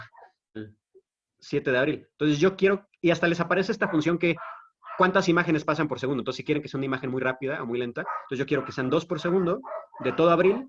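Several household dogs bark at home, their short yips and woofs partly buried under a person who talks almost continuously, with the barks most noticeable in the brief pauses.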